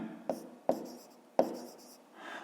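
Pen writing a fraction on paper in a math lesson, with a few sharp taps and short scratchy strokes, close and quiet, and no speech.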